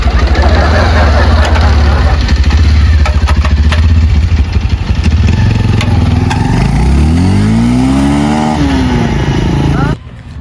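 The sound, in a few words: motorcycle engine starting and running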